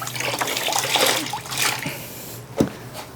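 Water splashing and trickling onto a car headlight during wet sanding, a steady wet spatter with a sharp splash near the end, close and fairly loud with no talking.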